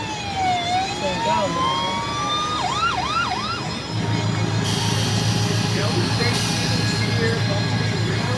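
An electronic police siren from a Tempest police car kiddie ride at a seaside amusement arcade wails and yelps in rising and falling sweeps, then switches to a steady buzzing tone, loud and close, with arcade chatter and background noise.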